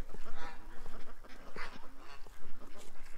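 A little duck calls outdoors near deep mud, a run of close, nasal honking quacks in quick bursts, fairly loud against light background noise.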